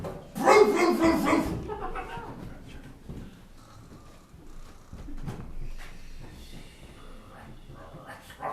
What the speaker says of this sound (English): Who's that dog?